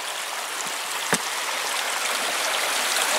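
Spring water overflow pouring steadily from a pipe at a developed spring with an off-grid solar submersible pump, a continuous close splashing stream with one brief louder splash.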